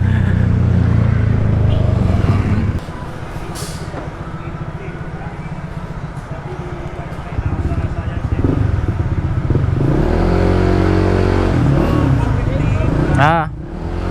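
A Honda ADV160 scooter idling and revving at low RPM with a loud, rough, throbbing engine note that swells, eases, then rises again, close up, with people talking and exclaiming over it.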